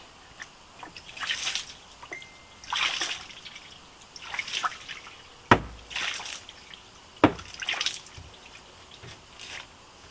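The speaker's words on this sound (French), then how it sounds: "Allez, de l'eau claire, on va essayer de rincer." Clean water is poured over a car wheel rim to rinse it, giving intermittent splashes and trickles, with drips and a couple of sharp knocks in between.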